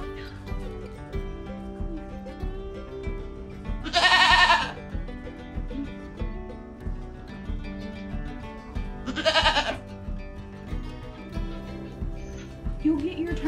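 Baby goat kids being fed let out two loud, sharp bleats several seconds apart, standing out close above a busy background of rustling and low murmuring.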